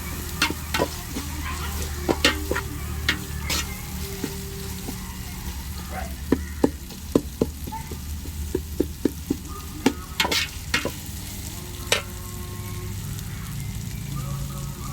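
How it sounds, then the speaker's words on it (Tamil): Tomatoes sauté in a pan for chicken biryani, a steady soft sizzle running under repeated sharp clicks and scrapes of a spoon stirring against the pan. "இந்த தக்காளி நல்லா குக் ஆகிற அளவுக்கு நம்ம வந்து வதக்கிக்கிறது நல்லது"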